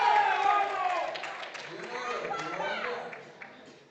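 A crowd at a powerlifting championship in the 83 kg classic men's class cheers and claps loudly before fading, with a commentator talking over the noise throughout.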